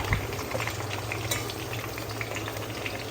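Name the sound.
sliced onions added to hot oil, frying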